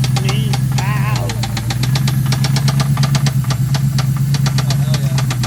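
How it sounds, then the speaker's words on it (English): A 2V Ford Mustang V8 idles with a loud, constant low rumble, and a rod knock taps rapidly and regularly over it. Someone speaks briefly over the engine. "we knew it had a rod knock"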